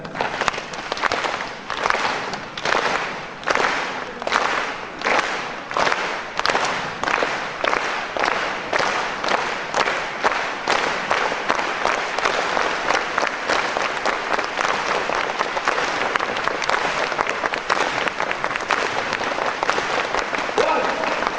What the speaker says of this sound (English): So we're going to clap it out.